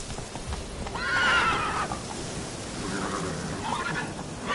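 Horse neighing loudly over steady clip-clopping hooves on a muddy, noisy track, the whinny rising then fading while hoofbeats continue throughout, with no talk.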